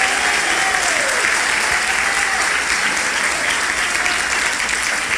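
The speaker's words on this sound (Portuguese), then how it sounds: "Pode aplaudir de novo" A church congregation applauds loudly and without a break, a dense, even wash of clapping that fills the room from start to finish.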